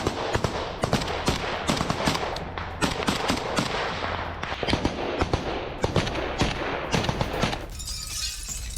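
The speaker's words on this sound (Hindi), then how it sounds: "ताबड़तोड़ गोलियां चलाई गई हैं" Rapid gunfire in a Hezbollah attack targeting Israeli fighter jets near Beirut, a dense burst of overlapping sharp cracks and bangs that keeps going nonstop for several seconds before trailing off into a hissing wash of noise.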